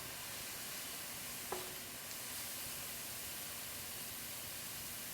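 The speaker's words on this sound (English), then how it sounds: "Just sweating these down. I'm on high heat right now." Vegetables sizzling in a wok on high heat, an even, hissing fry that holds steady with one faint clink partway through.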